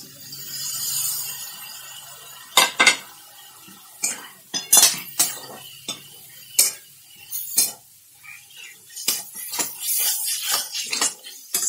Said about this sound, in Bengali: ভালো করে আমি আগে মাংসটাকে কষে নেব